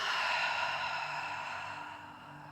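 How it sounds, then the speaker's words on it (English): A single long, slow exhale through the mouth during a vinyasa yoga flow, a breathy airy rush close to the ear that gradually fades away, with no talking. "And exhale through the mouth,"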